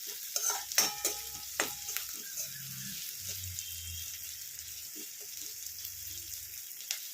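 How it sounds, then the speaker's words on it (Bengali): Sliced onion and a green chili frying in a pan: a soft, steady sizzle close by, broken by scraping and knocking of a spatula stirring, with low clunks near the start. "পেঁয়াজটাই হালকা ভেজে নেবো।"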